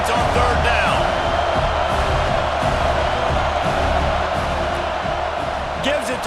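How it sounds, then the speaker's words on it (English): A football stadium crowd roars for the defense on third down, a dense, loud wash of cheering and shouting that carries on steadily under a commentator's voice. "Decibels rising as the crowd gets behind this defense on third down."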